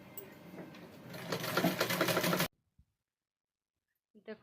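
A sewing machine stitches tucks on a blouse, a fast steady mechanical whirr that builds for a couple of seconds and then stops abruptly, leaving near silence with a faint tap afterward.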